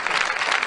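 Brief applause from a studio audience during a comedy sketch, a dense even wash of clapping lasting under a second with no speech over it.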